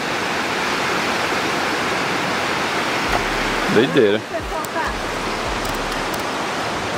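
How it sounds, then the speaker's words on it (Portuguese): Choppy waves of water wash steadily at a border area, a loud continuous rushing surge that fills the scene, with a brief spoken exclamation over it near the middle. "As ondas."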